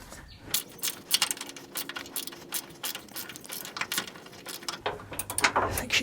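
A wrench ratchets a rusty rear stabilizer link nut on a GM SUV such as a Suburban, Tahoe or Yukon, giving rapid close metallic clicks and scrapes in uneven bursts.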